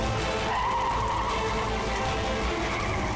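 Car tires skidding and squealing as someone tries to bring it to a stop, a continuous harsh screech over a low engine rumble, loud and unbroken throughout.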